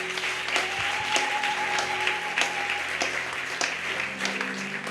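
A church congregation applauds at a revival campaign gathering in Gabon, a dense, steady wash of clapping close by filling the whole stretch, with a sustained tone running beneath it.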